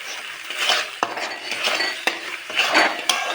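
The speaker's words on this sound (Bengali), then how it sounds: "এখন মশলা ভাজা হচ্ছে," Spice masala frying in oil and being stirred in a pan while cooking brinjal and paneer, with a steady sizzle, repeated clinks of a spoon against the pan at roughly one-second intervals, and scraping stir strokes, close and fairly loud.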